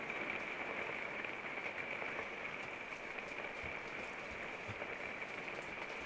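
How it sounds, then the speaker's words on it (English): Constant rain pours down, a broad close hiss with scattered drop patter, steady from start to finish and unbroken by voices. "I hope you guys can hear over that rain."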